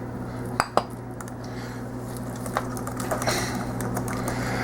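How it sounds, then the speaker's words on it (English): Pressure-cooked baked rice is served from an Instant Pot, with a couple of sharp utensil clinks against the metal pot and a few softer scrapes over a steady low hum. The sounds are close and no one speaks. "And we just take it and serve it at this point."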